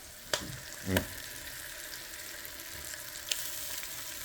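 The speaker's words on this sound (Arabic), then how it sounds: "عاد الدجاجه تقلات مزيان، شتيها بحال هكا تحمر واحد شويه" Pieces of free-range chicken for r'fisa frying in a pan, a steady close sizzle broken by a few sharp clicks and a brief stirring scrape, with no talking.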